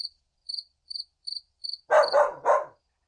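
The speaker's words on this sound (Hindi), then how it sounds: "घर के ठीक नीचे एक कुत्ता भौंक उठा।" A dog barks three times in quick succession right below a house at night, loud and close, following a run of steady, evenly spaced cricket chirps in a horror cartoon.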